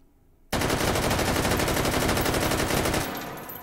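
An AK-12 rifle fitted with a muzzle brake firing full-auto in the VR game H3VR: a loud, continuous rapid burst of gunfire starting abruptly and lasting about two and a half seconds before decaying.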